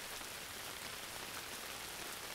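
Steady rain falling on surfaces, a dense, even hiss of drops that stays constant and close throughout with nothing else over it.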